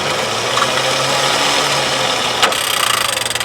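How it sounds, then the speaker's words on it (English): A vehicle winch reels in its rope with a steady mechanical motor drone, and near the end a sharp clunk is followed by a faster, pulsing whir. The sound is close and there is no talking. "you winch it in"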